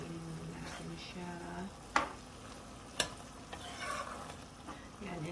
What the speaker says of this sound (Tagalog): Ayan, tapos nilagay yung ginataan ay yung coconut cream. Haluin natin siya.